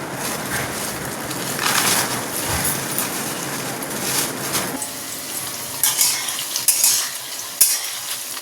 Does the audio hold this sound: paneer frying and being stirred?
yes